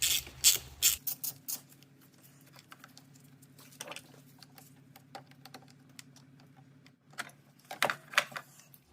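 A ratchet wrench clicks in quick bursts while loosening the negative battery terminal on a Chevy with a 1.4L turbo engine, with a louder flurry at the start and end and a faint steady hum between.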